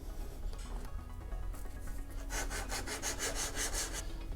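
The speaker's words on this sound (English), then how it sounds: "So let's sand this down to that level first." Close rhythmic sanding strokes on part of a homemade Boba Fett jet pack, rasping scrapes that grow into a regular back-and-forth rhythm, alone with no talking.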